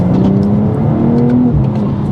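A tuned BMW M240i xDrive of about 450 bhp accelerating hard, its loud engine note droning and rising steadily from inside the car with no talking.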